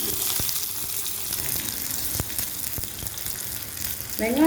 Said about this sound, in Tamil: ஆயில் சூடானதும் கடுகு, உளுந்தம் பருப்பு, கடுகு பொரியும் போதே 2 வரமிளகாவை இந்த மாதிரி கிள்ளி சேர்த்துக்கலாம்.